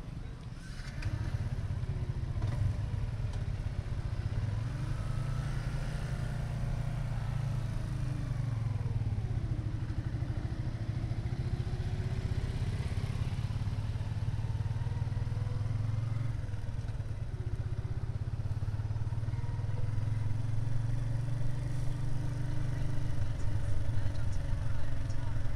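A Yamaha FZ150i motorcycle engine drones steadily throughout a long road ride, with a constant low rumble and wind noise, occasional shifts in pitch as it accelerates.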